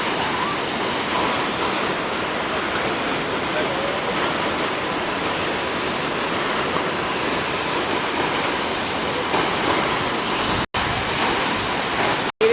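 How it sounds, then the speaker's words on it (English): Waterfall near Twin Falls, Idaho, reached by a small trail, giving a steady, loud broadband roar of falling water that runs unbroken apart from two brief cuts near the end. "The waterfall."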